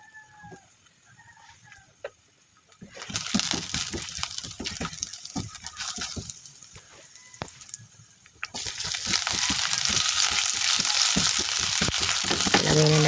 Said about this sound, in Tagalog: Ayan, magigisa tayo ng bawang.